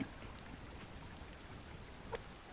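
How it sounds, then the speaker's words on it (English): Nighttime downpour in the survival video game Subsistence, a faint steady hiss of rain with scattered light drop ticks, no voices. "It's pouring down. Oh god, pouring down with rain."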